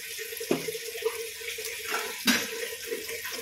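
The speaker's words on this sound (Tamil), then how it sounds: "வாழைக்காய்க்கு நம்ம கொஞ்சமாக தண்ணி சேர்த்துக்கலாம்." Water poured from a vessel into a cooking pan of raw plantain seasoned with salt and turmeric, a short splashing pour with a couple of louder sloshes, close and clear with no talk.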